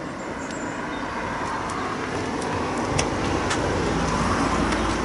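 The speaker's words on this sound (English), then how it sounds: "Okay guys, the car has turned up" A car pulling up outside, its steady road and engine noise loud and continuous throughout with no voices.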